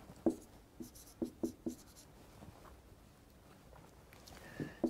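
Chalk or marker taps and scrapes on a board during a physics lecture, a handful of sharp strokes spaced out over a faint room background.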